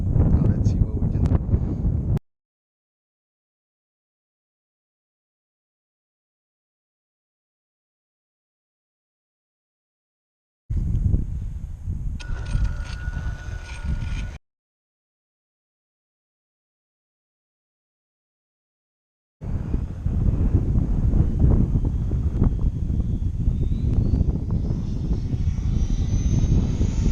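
An Arrma Infraction V2 RC car runs at full throttle on a speed run, its motor whining loudly in bursts among wind noise, with gaps of silence between them.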